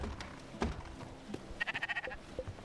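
Sheep in the video game Spiritfarer bleating in a short wavering run of pulses, fairly faint over a low background of game sounds.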